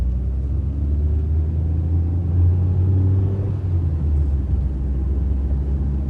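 A car drives along a road through Moroccan landscape, its engine and tyres producing a steady low rumble that swells slightly midway and holds close and continuous throughout.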